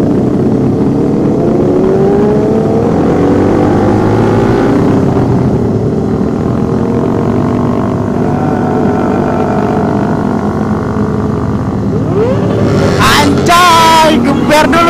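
A modified motorcycle engine revs loudly at a group motorcycle ride, a close rough roar whose pitch rises and falls over long pulls, then ends in sharp bursts of throttle.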